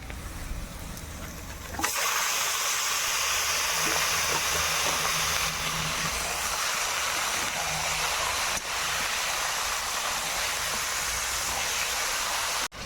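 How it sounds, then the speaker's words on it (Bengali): Mutton meat hits a pan of fried spice masala and erupts into a loud, steady sizzling hiss that holds strong and unbroken for over ten seconds, close and dominant. "মটনের মশলা কষানো হয়ে গিয়েছে, এবার দেবো মটন।"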